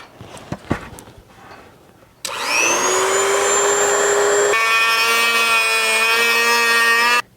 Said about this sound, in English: I'll use a Dremel tool that'll allow me to get in here and cut it.